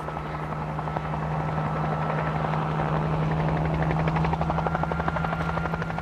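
Helicopter herding wild mustangs, its rotor chop and engine drone steady and close throughout, growing slightly louder toward the end with no voices.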